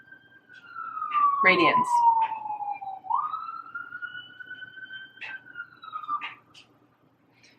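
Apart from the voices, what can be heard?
siren going off outside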